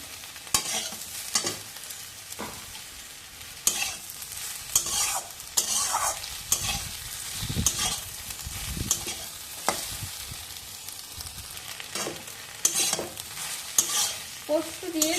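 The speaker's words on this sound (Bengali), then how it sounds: "পোস্ত দিয়ে একটু নাড়বো" Poppy seeds crackle and hiss softly in a pan while a spoon scrapes and taps repeatedly in an uneven rhythm, continuing steadily throughout.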